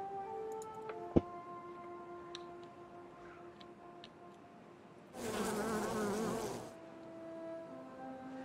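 Bees in the Timberborn video game give a dense, fairly loud buzz lasting about a second and a half, preceded by faint ticking game sounds and a single sharp click, with no talking.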